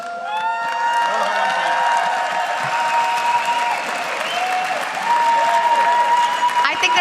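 A large esports finals crowd at the 2014 EU LCS Summer Finals roars with sustained applause and cheering, dense and loud throughout, with voices and whoops mixed in over the clapping.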